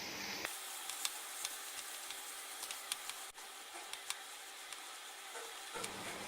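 Ridge gourd (luffa) curry with ghee being stirred in a pan on a low flame, giving a soft, steady sizzle. Faint scrapes and taps of the spoon come through for several seconds.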